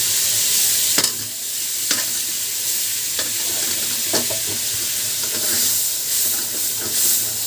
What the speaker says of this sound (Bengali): আমি এখন তেলের ভিতরে নারিকেল বাটা দিয়ে দেব।